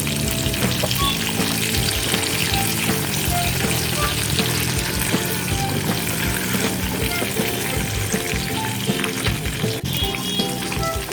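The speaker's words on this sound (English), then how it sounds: "Lightly fry the leja pieces because I will prepare the gravy" Pieces of rui fish tail sizzle and splutter continuously in hot oil in a pan, a steady loud crackling close to the microphone with no voice over it.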